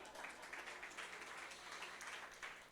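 Applause from a theatre audience at a live comedy show, a dense, steady wash of clapping that fills the whole stretch at fairly low level with no gaps.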